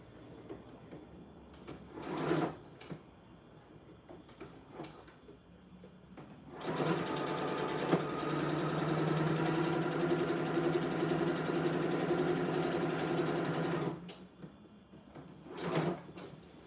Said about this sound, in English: I'm gonna be running a stitch in the center of this pocket.